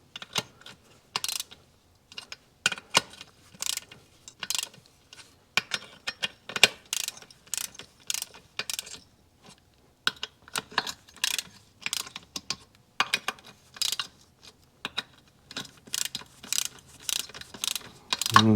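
A ratchet runs down bolts on a Suzuki GT380 engine in quick, irregular bursts of sharp clicking, close and crisp, with short pauses between strokes and no talking.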